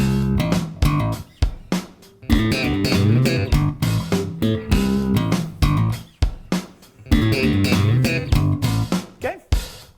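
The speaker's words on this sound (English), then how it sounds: "So this is going to be using open string hammer-ons," Slap bass drives a busy riff with triplet fills built on open-string hammer-ons. Sharp percussive pops and thumps come in rapid clusters with brief gaps, loud and close, for about ten seconds.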